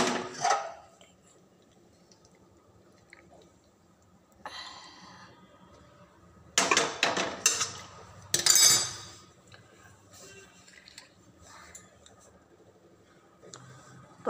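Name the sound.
pouring cooked potato, tomato and broccoli curry from the pan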